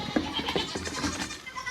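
Baby goats bleat in a crowded pen, several overlapping young voices calling close by in quick bursts over a busy farmyard background, with a light scratch or two and no talk.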